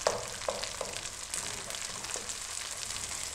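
Ginger and garlic paste hits hot oil with golden onion paste for a cauliflower kofta curry, giving a steady, close sizzle and hiss with a few soft stirring clicks and no talking.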